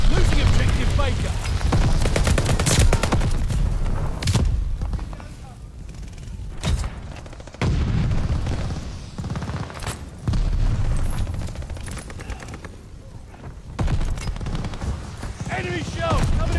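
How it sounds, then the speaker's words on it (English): Repeated heavy blasts of incoming enemy artillery shells in the World War II shooter Call of Duty: Vanguard, thumping booms recurring every few seconds amid ongoing battlefield gunfire, with a voice talking over parts of it. "Enemy shells coming in hot."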